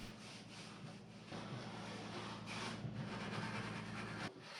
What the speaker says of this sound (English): I have moved on to mineral spirits and just a 3M scrubbing pad, and I just clean up all the stripper and the residue